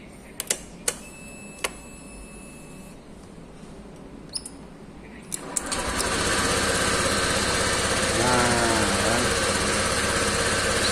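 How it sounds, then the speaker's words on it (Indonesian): A Honda Vario scooter engine, started after the ignition wiring is jumpered, catches about halfway through following a few clicks and quiet handling. It then idles with a steady, busy mechanical buzz close to the listener. "Setelah kita melakukan penjamperan, ternyata mesinnya hidup."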